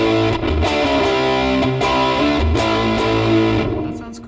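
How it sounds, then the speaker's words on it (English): Electric guitar through a Big Muff fuzz effect on a NuX Mighty Plug headphone amp: thick, saturated chords strummed loudly and steadily with several rhythmic changes, playing alone without voices. "3-band EQ, you get a big muff."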